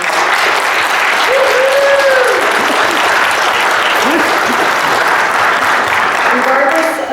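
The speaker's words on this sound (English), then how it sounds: "So I'd like to give them a round of applause." Loud, sustained applause from a forum audience honoring school district educators, with scattered voices and a few cheers mixed in over steady clapping.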